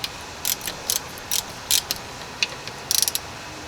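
A ratchet tightens a 14mm fitting on a Denso starter solenoid from a 1983 Toyota pickup, clicking in short quick bursts, close and clear with no talking.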